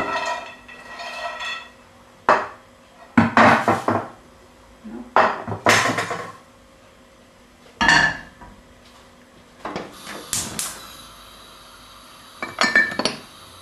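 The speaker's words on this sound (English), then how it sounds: "Time to stir fry everything." Beef fillet and cashew nuts stir-fried in a pan, heard as a series of separate clattering clinks and scrapes of utensil on metal, loud and close, with short quiet gaps between bursts and no talking.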